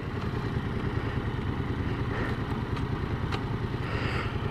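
A motorcycle in fourth gear gives a continuous, close, throbbing engine drone at a steady pitch and loudness throughout.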